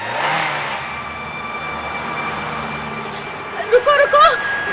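A car engine hums and whirs steadily at night, with a brief revving burst near the end as a voice calls out over it.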